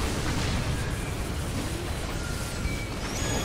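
Continuous dense rumble of cannon fire and explosions in the video game Earth Defense Force 5, a loud unbroken wall of booming blasts with no clear gaps.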